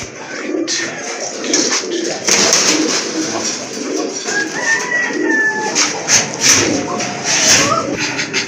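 A pair of pigeons, one racer and one Giribaz, coo in low, rolling bursts nearby, mixed with rustling and background bird calls while someone talks.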